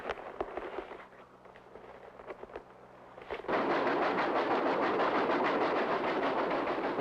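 A period train on the Durango–Silverton narrow-gauge railway in Colorado: clattering and rhythmic knocks at first, then a sudden loud, sustained roar of steam and rolling wheels that fills the rest.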